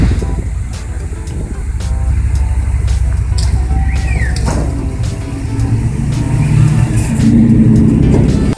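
A car drives in reverse, its engine producing a steady loud rumble with mild surges, accompanied by road and wind noise and a few faint clicks, with no voices.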